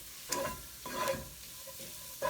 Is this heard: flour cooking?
yes